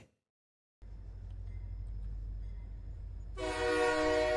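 A train stands at a railway platform with a low, steady rumble after a moment of silence, then a loud train horn blares near the end.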